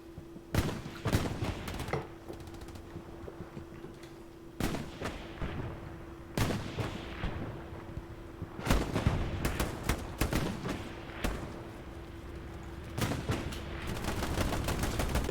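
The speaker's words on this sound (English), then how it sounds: "Bombing run coming in." Gunfire and a bombing run in the video game Hell Let Loose: sharp shots and machine-gun bursts crack over a steady low battle rumble, with heavy blasts landing at about 0.5, 4.5, 6.5 and 9 seconds, loud and close throughout.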